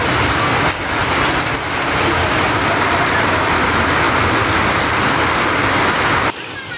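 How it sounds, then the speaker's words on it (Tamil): Moderate rain pours steadily over parts of Tamil Nadu, a loud, continuous broadband wash of falling water. A brief dip comes early and the sound cuts off abruptly near the end. "பல்வேறு பகுதிகளில் 1 மணி நேரத்திற்கும் மேலாக மிதமான மழை பெய்தது."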